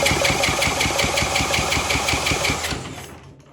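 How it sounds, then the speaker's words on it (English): Yamaha 225DX Tri-Moto three-wheeler engine being cranked over during a compression test, a close, loud rhythmic chugging of rapid regular strokes that stops abruptly near the end. "We turned it over a second time now."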